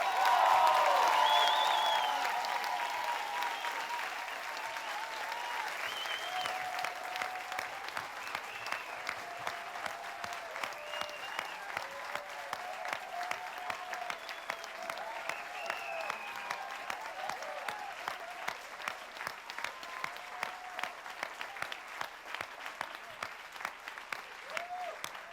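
Audience at a Cannes Film Festival 2018 masterclass with John Travolta breaks into loud, sustained applause that starts at full strength and settles into steady, even clapping for the whole stretch, with no talk over it.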